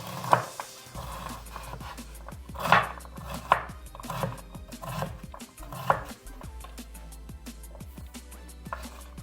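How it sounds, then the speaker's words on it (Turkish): Sharp knife strikes on a cutting board as quince is chopped into small cubes, irregular and close, several distinct chops with quieter cuts in between. "Böyle küçük kuşbaşılar halinde dilimliyoruz."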